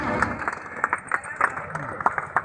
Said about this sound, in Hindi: जोरदार तालियों से स्वागत करें सभी भाई साहब का